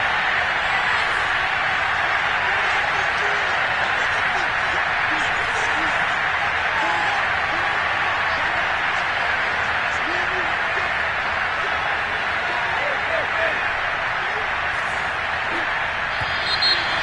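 A steady, loud stadium crowd roar at an American football game involving the Titans, sustained without a break as a commentator talks over it.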